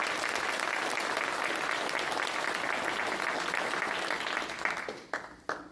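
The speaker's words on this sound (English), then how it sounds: "Let's give our staff a round of applause." Audience members at Campbell's State of the City Address clap for city staff in a full, even round of applause that thins into a few scattered claps at the end.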